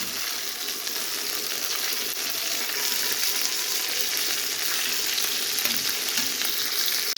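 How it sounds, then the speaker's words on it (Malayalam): Marinated chicken pieces for chilli chicken deep-fry in hot oil, making a steady, close, even sizzle that holds through the whole stretch with no talk over it. "എണ്ണയിലിട്ട് നല്ല ഫ്രൈ ചെയ്തെടുക്കുക"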